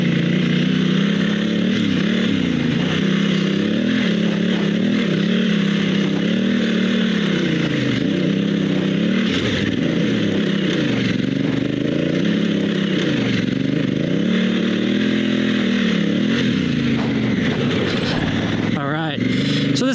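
A dual sport motorcycle on Metzeler Karoo 3 tires climbs a dirt hill, its engine roaring loud and close throughout with rising and falling revs, and a rider's voice now and then over the motor.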